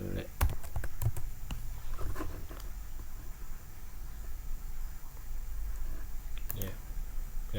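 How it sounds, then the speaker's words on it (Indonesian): Keys clatter on a computer keyboard in short bursts of typing, close and clear, with a few sharper clicks mixed in over quiet room background. "Kemudian ketik Mendeley."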